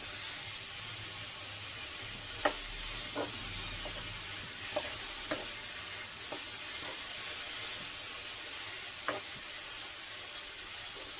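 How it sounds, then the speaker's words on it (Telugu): Melted jaggery being stirred into syrup in a pan: a soft, faint bubbling sizzle with scattered scraping strokes of the spoon, heard close up with no talking. "ఈ కరిగిన బెల్లం బాగా పాకం వచ్చే వరకు కూడా ఇలాగ కలుపుతూ తిప్పుకోవాలి."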